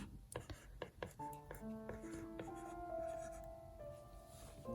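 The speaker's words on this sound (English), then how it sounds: "if I just want to write something really quick, like hello" A stylus writes quickly on a tablet screen in a note-taking app, making short, close scratchy taps and strokes, with faint tonal background sounds behind them.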